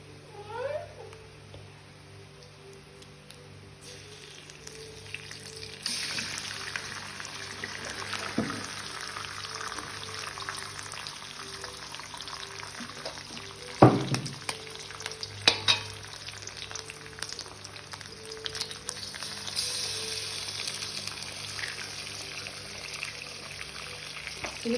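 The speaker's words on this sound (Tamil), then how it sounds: "இப்போ நாங்கள் இதுக்குள்ள முட்டையை விட்டுக்கொள்கிறோம்." An egg sizzles and fries in a pan with chillies and curry leaves, a steady crackling hiss with occasional stirring clatter and a few sharp pan knocks.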